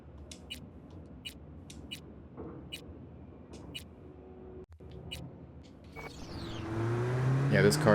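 A car driving in Cyberpunk 2077, with scattered sharp clicks over a low hum at first, then an engine that swells into a loud, rising roar over the last couple of seconds.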